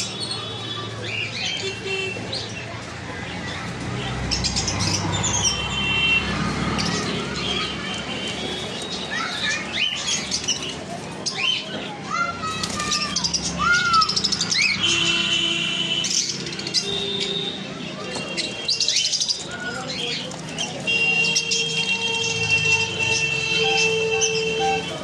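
Conure parrots call at a busy bird market, with shrill, chirpy squawks scattered throughout over a dense crowd din, and people talking nearby.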